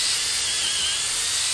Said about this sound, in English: You're pre-drilling it with the 5/16 inch bit, and you don't go all the way through.